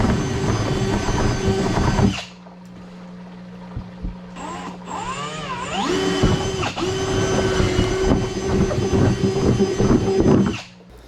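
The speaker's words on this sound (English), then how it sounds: "what I'm gonna do is basically just rip a hole dead center on this" A drill bores a hole through the plastic wall of a Ski-Doo Expedition snowmobile cargo box, giving a steady, close, whining grind that stops briefly, then resumes with rising and falling pitch before cutting out.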